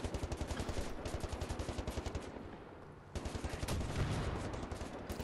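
Rapid, dense gunfire from a video game, Wolfenstein: The New Order, a shotgun among the weapons, with loud continuous bursts filling the clip and a brief dip midway before the firing resumes.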